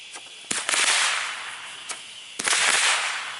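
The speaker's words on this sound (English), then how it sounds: "Blue stars with report." Blue-star firework shells bursting with sharp reports: a cluster of loud cracks near the start, a single pop in the middle, then another crackling volley followed by a hissing shower of sparks.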